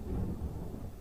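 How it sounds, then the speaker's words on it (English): Low rumbling thunder rolling through an electrical storm with rain, a steady deep roar heard continuously at a moderate distance with no voices. "Oh, the thunder rolls, friends. Did you hear that?"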